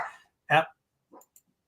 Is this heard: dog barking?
yes